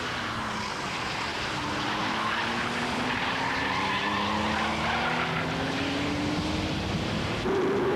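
A racing car slides on a slippery entry into Mountjoy corner at Phoenix Park, Dublin, during an Irish Motor Racing Club meeting: loud, sustained engine drone with rising tire squeal, close and continuous.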